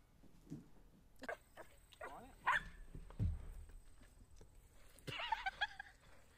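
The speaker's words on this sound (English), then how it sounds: "There goes the doggo." A dog lets out a few short barks and whimpers among scattered bumps and movement, fairly faint and uneven, with a voice murmuring at moments.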